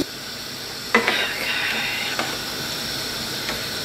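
Mince and gravy simmering away in a pan on the hob, a continuous even hiss with a couple of faint clicks from the pan, close and moderately loud with no talking.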